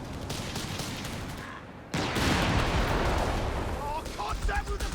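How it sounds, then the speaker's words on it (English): Gunfire from Grunt infantry in the strategy game Company of Heroes 3, bursts of rifle shots and battle noise over a lower rumble, growing louder partway through, with a commentator talking over it. "Shots from the Grunt there, though."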